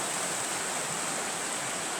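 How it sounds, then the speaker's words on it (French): The Corne stream pours into the old Chavanon dam tunnel as a steady, dense rush of falling water, loud and continuous throughout with no voices. "derrière moi, il y a le ruisseau de Corne qui arrive et qui se jette aussi là dans le tunnel"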